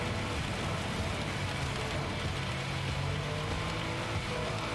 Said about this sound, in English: Now we're in the rain.